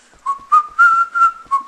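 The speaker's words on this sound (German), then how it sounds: "Also, ich hör auf zu pfeifen." A person whistles a short melodic phrase of several clear, bright notes, close and loud, with brief gaps between them.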